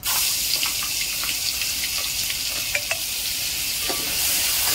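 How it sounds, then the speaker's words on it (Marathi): Masala is added to crackling mustard seeds in oil for patodi, a steady close sizzle with light stirring scrapes and scattered pops throughout. "मोहरी तडकली, आता त्यात मी मसाला घालते"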